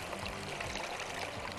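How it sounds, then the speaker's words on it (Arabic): Milk pours in a steady continuous stream onto rice for Egyptian farmhouse-style baked rice, a close liquid gush with no talking over it. "تمام هننزل بقى باللبن عليه"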